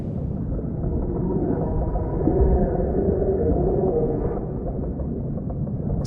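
Whale-birds in the evolution game Serina give a deep, drawn-out moaning call that swells and fades over a low, steady rumble, loud and close, with no other sounds.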